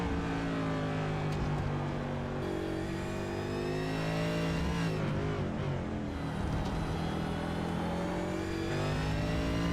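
Race cars at the Circuit of the Americas accelerating along the track, a steady loud engine whine climbing in pitch, dipping once as a car passes, then building again, with no talk over it.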